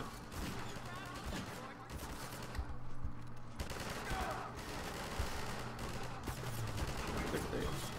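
Gunfire in the video game Half-Life 2: dense, continuous bursts of shots and rattling fire at a steady level for the whole stretch, with a voice talking faintly underneath.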